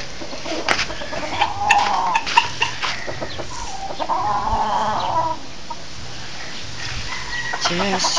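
Chickens cluck and squawk nearby in short, irregular bursts, with some soft background noise and occasional faint voices.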